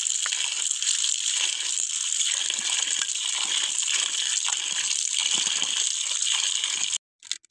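Wheat grains being washed in water, a continuous loud sloshing and trickling with grainy rattles that runs steadily throughout and then cuts off abruptly near the end.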